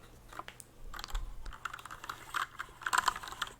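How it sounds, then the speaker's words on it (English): Computer keyboard typing in a quiet ASMR setting, close crisp key clicks in irregular bursts that grow denser and louder toward the end, with no voices. "up next we have keyboard sounds"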